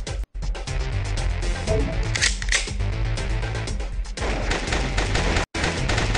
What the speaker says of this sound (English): Her sniper rifle hit, so that's good.